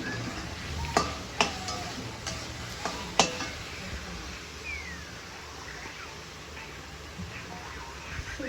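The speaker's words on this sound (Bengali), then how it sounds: "ভালো করে এবার পনিরটা আলুটা কষিয়ে নেব।" Paneer and potatoes frying in a pan are stirred with a few sharp utensil clicks and scrapes over a faint, steady sizzle, with soft background noise throughout.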